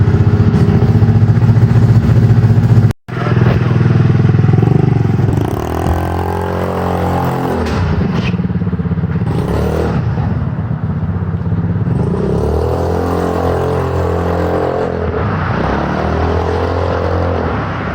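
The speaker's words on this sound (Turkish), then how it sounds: "Bitirdik şu an deniyor motoru." A Mondial Kral Pion scooter fitted with a swapped 150cc GY6 engine runs up close and loud, cutting out for a moment early on, then settling into a rattly idle with rising revs.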